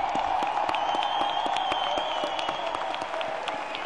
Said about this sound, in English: Let's give another round of applause to the class of